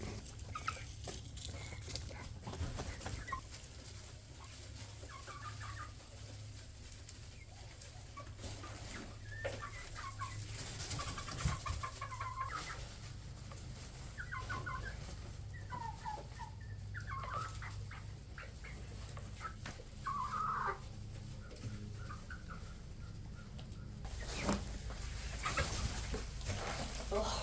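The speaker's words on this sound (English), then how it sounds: "They just love to perch and make nice little soft chirping sounds, and they're very quiet." Soft, high chirps from young chicks come in scattered bursts over a low steady hum, quiet and close, with faint shuffling and pecking around them.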